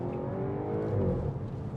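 Audi S4 3.0 TFSI V6 with S tronic gearbox revving up after a downshift, a close, steady engine drone with rising harmonics and no voices.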